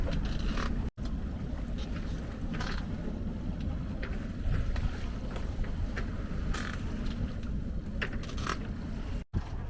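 A sailboat motors under engine power on the open sea during a long solo ocean passage, with a steady low engine drone and broad rushing wind and water noise that runs throughout, broken only by two brief dropouts.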